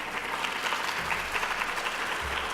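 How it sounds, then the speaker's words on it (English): A conference audience at a diversity event breaks into full, continuous applause, many hands clapping together in a steady roar, with faint low murmuring underneath. "Good clap."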